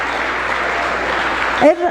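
Church congregation applauding during a sermon, a steady, full burst of clapping that cuts off near the end as a voice begins to speak.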